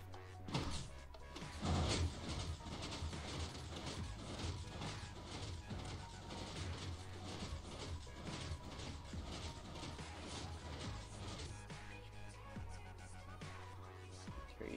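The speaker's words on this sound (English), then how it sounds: "Then you're gonna flip this lever and hit this button." In Minecraft, a lever flip and button press set a 4x4 redstone reader-display mechanism running, bringing a dense, steady stream of mechanical clacks, ratcheting clicks and crashing thuds that carries on without pause.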